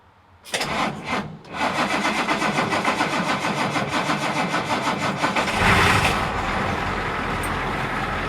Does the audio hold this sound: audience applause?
no